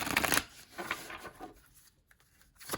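A deck of oracle cards shuffled by hand: a loud riffling burst at the start, then softer intermittent card rustles and a final quick flick near the end, with no talking.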